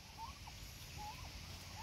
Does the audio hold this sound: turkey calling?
yes